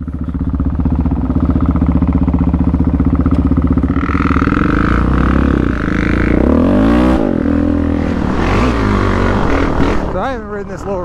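An ATV engine runs on the Snake Creek and Trout Valley trails, a loud close drone that shifts pitch as the rider changes throttle, with voices briefly heard over the engine.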